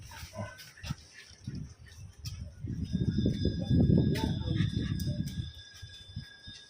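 Dogs barking and whimpering near cows in a rural setting, a dense cluster of loud close barks building in the middle and fading, with some voices in the background.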